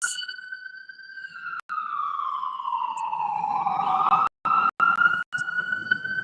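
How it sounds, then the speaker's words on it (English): An ambulance siren wails steadily as it passes by outdoors, a loud sweeping tone that slowly drops in pitch, with brief dropouts. "I hear the ambulance."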